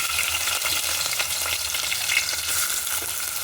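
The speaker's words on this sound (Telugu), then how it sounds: "ఈ చేపలు వేయించుకుందాం ఫస్ట్." Small dried fish fry in a pan with a steady, close crackling sizzle that hisses on without a break, and no one speaks.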